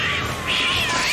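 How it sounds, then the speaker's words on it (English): A cat meows a couple of times, fairly close and clear, with faint background noise. "Where did all the cats come from?"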